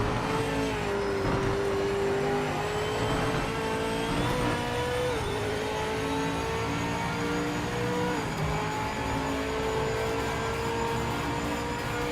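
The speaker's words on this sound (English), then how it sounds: "It definitely has a one-of-a-kind sound, though, so far. No other car in the game sounds like that" A race car engine in the video game Project Motor Racing roars continuously at high revs, steady and loud, with slight pitch shifts as it shifts and accelerates.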